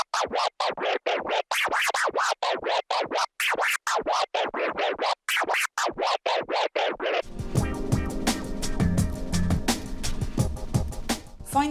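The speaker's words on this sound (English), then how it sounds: "in this video I will teach you how to do the baby scratch" Baby scratches are performed on a DJ scratch controller, a fast, even run of back-and-forth sample swipes, loud and close, that ends in a burst of backing music.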